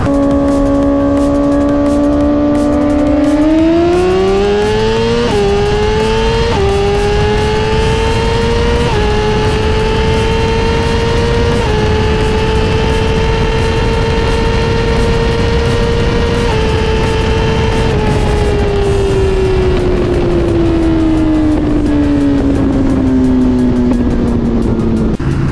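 A Suzuki GSX-R1000R, Kawasaki ZX10R and Yamaha R1 race together, their engines screaming loudly and continuously, pitch climbing through several gear shifts, holding high, then slowly falling as the bikes ease off.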